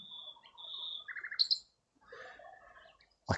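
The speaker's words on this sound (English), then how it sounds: "A male nightingale singing its heart out." A male nightingale sings in Thanet, delivering a varied phrase of clear whistles, rapid trills and sharp chirps, fairly close and alone, ending with a sudden click.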